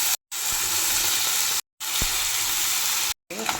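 Cut raw plantain pieces hit hot oil in a loud, close, continuous sizzle, broken into three stretches by brief silent gaps, with a soft thump or two as pieces drop in.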